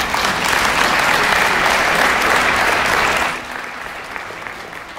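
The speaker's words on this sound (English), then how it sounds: "Let's give him a big round of applause." A loud, sustained round of audience applause at a guitar studio concert, steady and dense for about three seconds before dropping sharply to a quieter, thinner patter.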